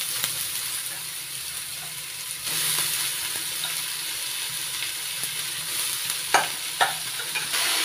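Finely sliced young radish with split green chillies fries in a pan, a steady close sizzle running throughout, with occasional scraping knocks from a spatula stirring near the end.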